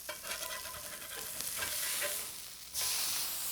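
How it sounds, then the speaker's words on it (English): A burger patty fries in a very hot cast iron skillet, giving a steady close sizzle with crackling pops that jumps louder near the end, with no talking. "Into a ripping hot cast iron skillet, put your burger patty."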